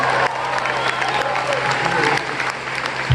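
A concert audience bursts into loud, sustained applause, dense clapping with some cheering, while a voice speaks over it from the stage.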